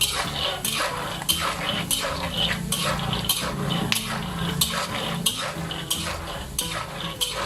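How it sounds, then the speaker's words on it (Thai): Peanuts dry-roasting in a pan without oil, stirred steadily so they scrape and rattle in a regular rhythm of close, busy clatters with no talking. "เราก็คั่วไปเรื่อยครับ คั่วไปเรื่อย ครับ"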